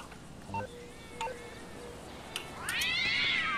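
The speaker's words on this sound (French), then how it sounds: "Il a fait tomber une armée de chats" Cats meowing in the GTA V video game, several short meows and cries that end in a louder, rising and falling yowl, heard over faint background game noise with no talking.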